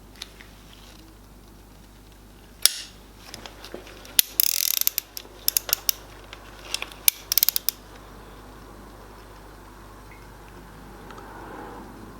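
A torque wrench tightens the cylinder head bolts on a DW12 engine to 60 Nm, giving sharp metallic ratchet clicks and clacks in short bursts over a quiet room, followed by a silent stretch.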